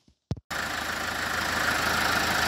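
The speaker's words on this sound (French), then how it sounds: "Et voilà, le moteur redémarre de nouveau." A car engine restarts after its alternator cable is reconnected: a brief starter whir, then the engine catches and settles into a steady, close idle hum that continues to the end.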